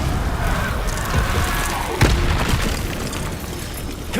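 Confringo fire spell exploding in the game Hogwarts Legacy, a single dull boom rising out of a dense, continuous roar of combat noise, loud and close.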